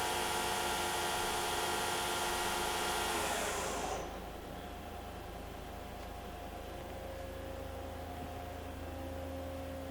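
A Doosan Lynx 220LC CNC turning center spindle winds up to 3000 RPM with a loud, high whining hum that drops to a steadier, lower whirr as it settles, close by with no talking.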